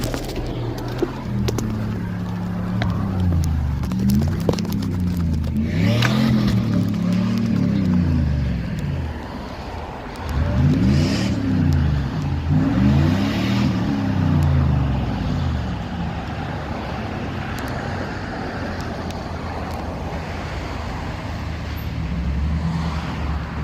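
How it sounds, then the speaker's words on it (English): A 2001 Pontiac Firebird revving repeatedly as it tries to leave a hit-and-run scene, engine pitch rising and falling in several surging bursts, close and loud, with a short lull midway. "you can hear the revving as he tries desperately to leave the scene a third time"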